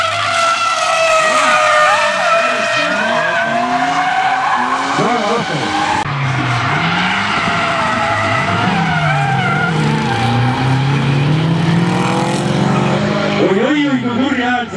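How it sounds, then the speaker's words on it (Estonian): Drift cars at a 2009 drift competition final roar at high revs with sustained, loud tire skidding and squealing, the engine note rising and falling continuously throughout. "Oi, kui kurja häält see T8 teeb seal."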